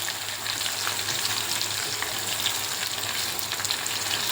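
Cumin seeds sizzle and fry steadily in a generous amount of hot oil while making grandmother-style beetroot chutney, a continuous close crackling hiss with no talk.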